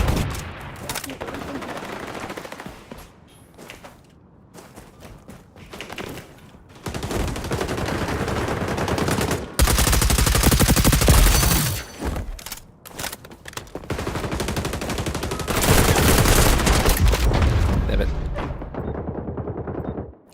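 Bursts of rapid video game gunfire, automatic weapons fire and explosive blasts from an online shooter match, loud and close, broken by short quieter gaps and fading out near the end.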